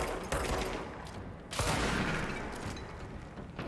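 Sniper enemy gunfire in the video game Control, with sharp cracks at about 0.3 and 1.5 seconds over dense, loud crackling action noise.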